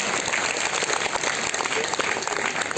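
Loud, dense applause from a crowd at a college ceremony, honoring a donor and sustained evenly throughout without a break.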